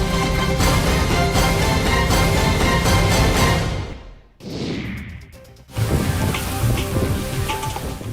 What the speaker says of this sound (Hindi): चिलचिलाती धूप से झुलस रहे रांची वासियों ने काफी दिनों के बाद बारिश की बूंदों को देखा